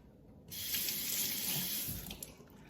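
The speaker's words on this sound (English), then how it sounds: "I've washed them, rinsed them" A kitchen tap runs into the sink while green onions are rinsed, a steady close water rush that starts abruptly and tapers slightly near the end.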